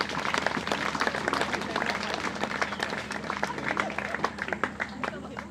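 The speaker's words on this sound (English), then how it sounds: "let's give Nyaradzo Group a well-deserved round of applause" Audience applause at a U14 basketball tournament event, with dense, steady clapping from a crowd, fairly close and sustained throughout, with some voices mixed in.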